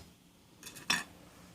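A short snip through ceramic fiberglass wick, heard as a couple of quiet crisp clicks from the scissors followed by one louder, sharper cut, close up in a quiet room.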